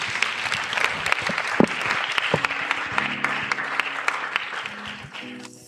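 An audience at a Korean church thanksgiving service after an outreach trip applauds in a sustained round of clapping, individual claps audible through the steady patter, with faint voices underneath before it tapers off.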